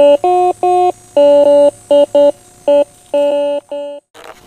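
Fisher F2 metal detector sounding a run of about a dozen loud, clean electronic tone bursts with short gaps, some two-tone, ending in a brief noisy scrape while hunting relics; no talking.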